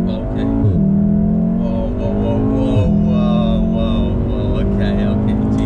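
A modified VW Mk7 Golf R accelerates hard, its loud, close engine note climbing in pitch and dropping sharply at each gear change, while voices exclaim underneath.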